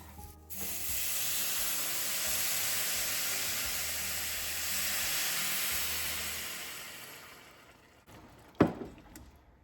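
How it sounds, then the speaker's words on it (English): Broth poured into a hot pan of orzo, a loud steady sizzling hiss with steam that holds for about eight seconds, then fades, ending in a short sharp clatter. "now I'm going to add in my broth"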